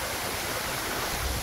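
Water rushes steadily at Bheemuni Paadam waterfall near Warangal, a dense, continuous roar that fills the air up close with no break.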